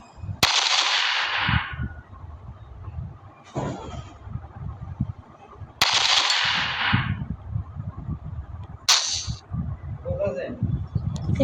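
Fireworks in the Firework Simulator video game crack twice with sharp bangs followed by long hissing crackle tails, each with a smaller pop a few seconds later, while a person talks underneath.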